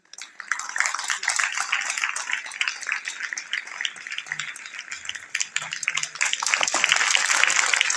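An audience at a farewell and felicitation ceremony for a retiring teacher claps continuously in a dense, loud wash of applause that swells toward the end, with a voice briefly audible beneath.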